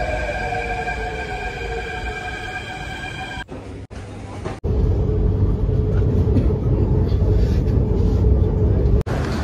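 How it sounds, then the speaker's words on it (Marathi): An electric whine of a metro train on the Versova–Ghatkopar line winds down as it pulls in, then gives way to a steady, loud rumbling rush of noise. "आता मेट्रो आलेली आहे"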